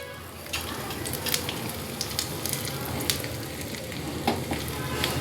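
Ginger sizzling in a hot pan for Punjabi sarson ka saag, a dense close crackle and hiss with frequent sharp pops and light stirring throughout.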